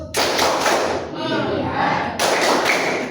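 Classroom of students doing a rhythmic focus clap together: loud, dense group clapping in two bursts separated by a brief pause in which the class chants aloud.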